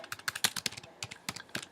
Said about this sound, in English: you can reply just by typing here